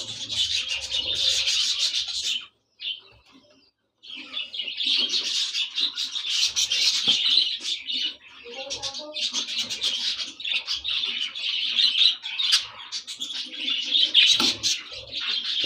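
Many bird chicks in a breeding box chirping in a dense, continuous high twittering, close by, with brief pauses and soft rustling of the birds moving about.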